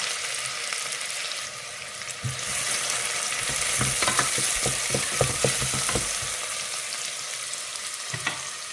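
Onions frying in oil in a pan for a home-cooked curry, a steady sizzle with intermittent stirring clatters and scraping, close and fairly loud throughout.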